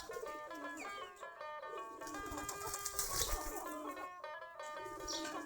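A flock of desi Giribaj pigeons kept in a loft cooing steadily, with soft chirps and wing flutters over a constant background of other sounds, no talk.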